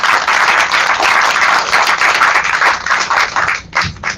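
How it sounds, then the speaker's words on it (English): A small audience gives a brief round of applause at the close of a podcast-style panel, dense close clapping that holds steady for about three seconds before thinning out and stopping. "And give a round of applause for being here."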